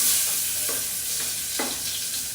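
Chopped onions fry for egg biryani in a pan, giving a steady close hiss of sizzling oil broken by a few scraping stir strokes, with no talking.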